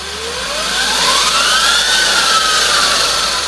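An upgraded Surron electric bike motor whines indoors, its pitch climbing smoothly then easing back down in a single steady partial-throttle rev, loud and close with no one talking.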